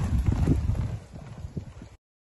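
Racehorses galloping along a flat training gallop at a racing yard, a rapid rumbling flurry of hoofbeats that is loud and close at first, then fades slightly as they pass, with no talking.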